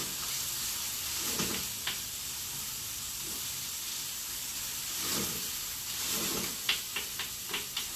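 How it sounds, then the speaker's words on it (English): Onions with cumin browning in a pan on high heat for a spicy lentil stew give a steady close sizzle and hiss, broken by a few small pops and stirring clicks, with no talking. "So you're browning those onions just a little bit by cooking them on the high heat"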